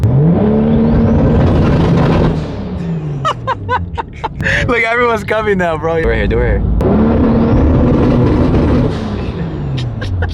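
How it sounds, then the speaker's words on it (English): Toyota Supra and other cars revving nearby in a crowd, loud engine roars rising and falling at the start and end with a burst of laughter and chatter in the middle; people talk throughout. "everybody is revving it, dude"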